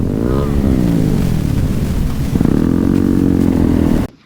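A motorcycle engine on a steep uphill climb in Batangas, loud and close, droning and straining with shifting pitch for about four seconds before cutting off abruptly.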